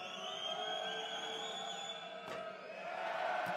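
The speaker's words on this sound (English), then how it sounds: "The crowd cheer as he misses." Basketball arena crowd in Oostende roars steadily during a Basketball Champions League game between Oostende and Telekom Baskets Bonn after a missed free throw, a sustained loud wash of voices throughout.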